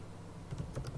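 A computer keyboard being typed on as a network command is entered, a short run of quick, light clicking keystrokes, close and fairly quiet against a soft background hiss.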